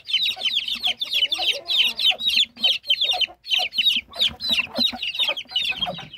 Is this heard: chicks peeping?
yes